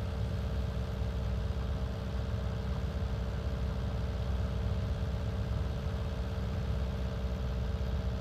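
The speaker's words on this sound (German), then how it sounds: "da merkt man, wie der Traktor zu kämpfen hat." A tractor engine in Farming Simulator 19 drones steadily as it strains under load, a continuous low hum at moderate level with no talking.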